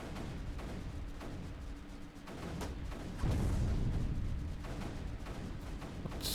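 Digitalis cannon firing in the video game Creeper World 3, a stream of soft repeated thuds and booms over a dense, noisy wash, growing heavier halfway through, with no talk.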